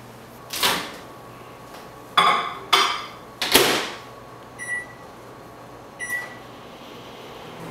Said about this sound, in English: we are actually going to put the potato in the microwave.